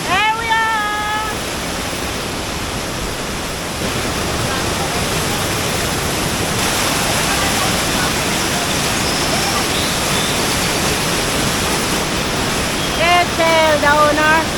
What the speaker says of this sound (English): This is where the water really gets strong and really noisy.